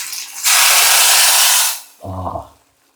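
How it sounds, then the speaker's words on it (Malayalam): Hot mustard seeds tempering for a Kerala kadala curry give a loud burst of sizzling hiss that lasts about a second and a half, then cuts off. A short low sound follows. "കടുക് വറുത്തത് നല്ല പാകത്തിനൂടെ കൊണ്ടുവന്നിട്ടുണ്ട് കേട്ടോ"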